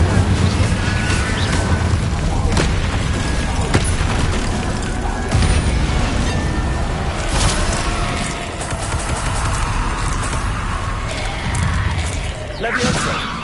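Spell blasts in Hogwarts Legacy, a dense, loud barrage of booming impacts, crashes and whooshes that runs continuously under shouted spell names.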